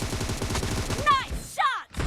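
Gunfire in a PUBG team deathmatch on the Warehouse map: rapid automatic bursts, close and loud, with a couple of sharp single shots ringing out over a busy game soundscape.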